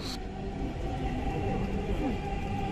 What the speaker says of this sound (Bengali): এই কারণ বাজার স্টেশন থেকে যখন ট্রেন শাহবাগের দিকে যাচ্ছে